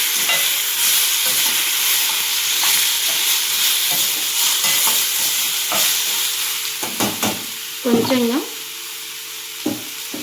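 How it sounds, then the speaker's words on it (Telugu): Washed chicken pieces fry in a pan for curry, a loud continuous sizzle and hiss up close, with scraping stirs and clinks of a utensil near the end. "బాగా ఫ్రై చేసుకుందాం."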